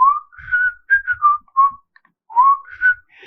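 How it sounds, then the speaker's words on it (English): A person whistles a melodic tune alone, a series of clear, sustained notes rising and falling in short phrases with brief pauses between them. "And I remember just whistling"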